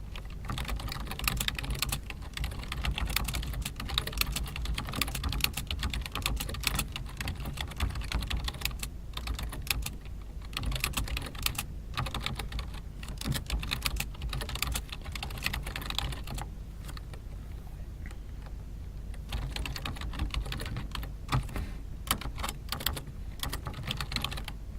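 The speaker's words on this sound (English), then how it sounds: "So I've typed the message to the student" Rapid clicking of keys on a computer keyboard as a message is typed, a dense, continuous patter of close keystrokes with brief pauses, going on for about twenty-five seconds with no talking.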